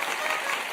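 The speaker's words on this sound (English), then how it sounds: "I think this deserves a round of applause." A brief burst of audience applause in a church, dense even clapping from a crowd, steady and moderately loud for under a second.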